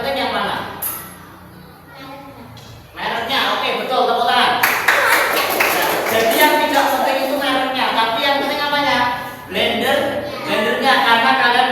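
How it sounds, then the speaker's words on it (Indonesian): Students in a classroom clap together in a short, lively burst after a quiet start, with the teacher's voice mixed in. "tepuk tangan"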